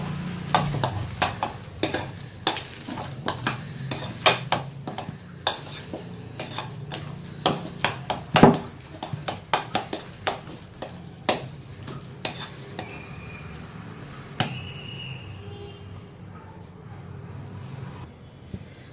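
Rice powder being stirred into vada batter in a bowl, a string of uneven scraping taps and clinks from a spoon against the dish, close and fairly quiet, easing off toward the end.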